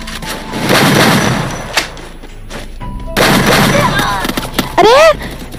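Shotgun blasts in the Free Fire video game come as loud, sharp bursts among other in-game gunfire and booms, with quick whooshing effects near the end.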